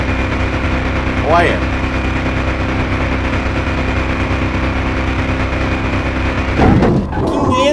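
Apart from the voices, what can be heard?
Ford Bronco 1980 with Jaguar V8 engine running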